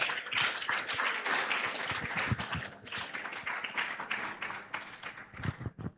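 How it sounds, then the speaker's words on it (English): Audience at a Nigerian business panel event gives the panelists a sustained round of clapping and applause, loud and dense throughout with scattered claps standing out near the end. "please can you give the panelists another warm round of applause?"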